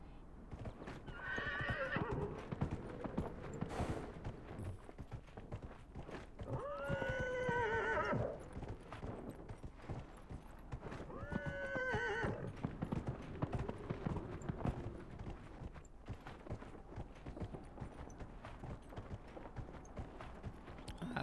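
A horse in the Dragon Age: Inquisition video game whinnies three times in long shrill neighs, with steady clip-clop hoofbeats running underneath the whole time.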